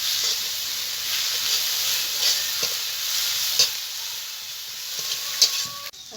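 Ground green chili and garlic paste frying in a pan with prawns, a dense steady sizzle broken by occasional stirring clicks against the pan, close up and without talk.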